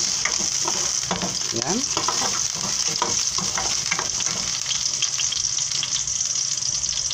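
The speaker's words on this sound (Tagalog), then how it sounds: "ginigisa na natin ang ating bawang" Garlic sautés in a pan with a loud, continuous frying hiss and crackle, broken by scraping stir strokes. A voice speaks briefly over it near the start.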